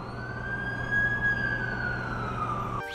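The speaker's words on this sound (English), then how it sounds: "That's the ambulance I called." Ambulance siren in The Amazing Spider-Man 2 video game, one long rising and falling wail close by over traffic rumble, cutting off abruptly near the end.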